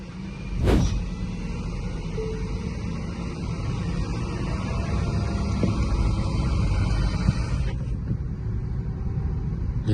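Road noise fills the interior of a Tesla electric car on a loud road, a steady broad rumble from the tires. It changes near the end as the window goes from closed to open, with no talking.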